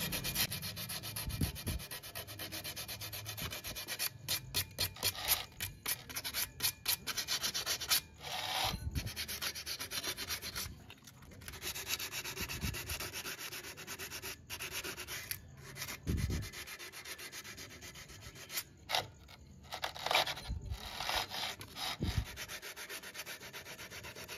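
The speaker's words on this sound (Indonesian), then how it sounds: "Kemudian diamplas." Sanding a Honda Scoopy clutch shoe lining by hand, rough repeated rubbing strokes in an uneven rhythm, close and fairly loud throughout with short gaps between passes; no one speaks.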